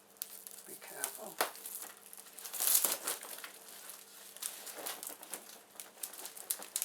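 Cardboard and plastic packaging is cut and ripped off a Gtech AirRAM Mk2 vacuum box with scissors, giving irregular crinkling, scraping and tearing noises, close and fairly quiet.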